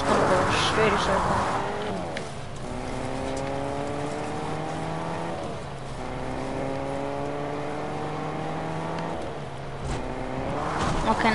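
A car in a video game circles steadily, its engine a sustained, close hum whose pitch sweeps up and down in long waves, with no other sounds over it.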